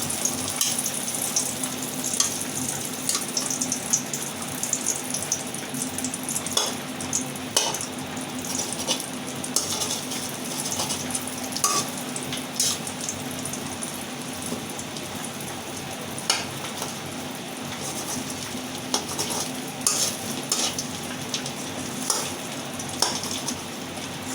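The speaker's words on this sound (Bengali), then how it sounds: "আমি ডিমটা কিন্তু সুন্দর করে ঘুরিয়ে ঘুরিয়ে একটু বড় করে নিচ্ছি" Egg frying in a pan while being swirled around, a steady crackling sizzle like light rain continuing throughout with scattered pops and faint scraping.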